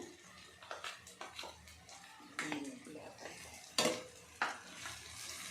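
Mango pickle is stirred through cooked rice, with soft squelching and scraping strokes in a short, irregular run, heard close up, with a voice talking in between.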